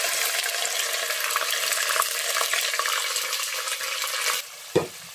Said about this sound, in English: now I'm going to add the pepper that I boiled earlier.